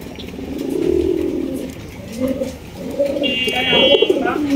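A male pigeon coos in low, rolling phrases among other pigeons at a fancy pigeon seller's, with someone talking nearby and a faint electronic tone briefly audible.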